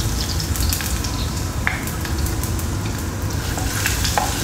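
Crushed garlic sizzling and frying in hot coconut oil, a steady loud crackle with occasional sharper pops and stirring, with no talking over it.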